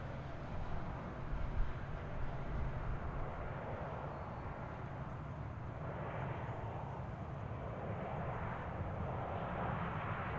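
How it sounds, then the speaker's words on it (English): A Boeing 737-800 airliner arriving at DFW airport from San Antonio, heard as a faint, distant, broad engine roar that stays steady for the whole stretch. "arriving from San Antonio on a 737-800"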